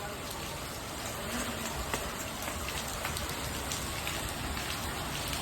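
Steady rain falls evenly throughout, a dense patter of drops on a surface with no other sounds standing out.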